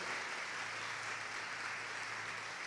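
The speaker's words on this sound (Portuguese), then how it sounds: "Vamos dar um aplauso a Jesus por vocês aí" A church congregation applauds together in a steady, even wash of clapping that fills the whole moment, heard faint and somewhat distant with no voices over it.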